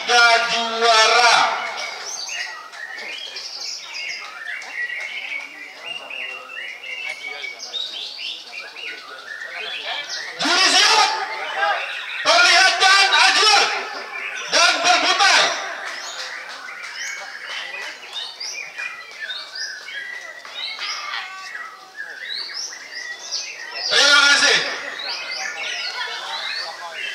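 White-rumped shama songbirds sing at a bird contest, with dense, varied chirps and whistled phrases running throughout, close and lively, over someone talking steadily.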